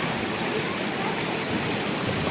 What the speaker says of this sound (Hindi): बहुत ज़बरदस्त पानी आ रहा है यहाँ पर तेज़।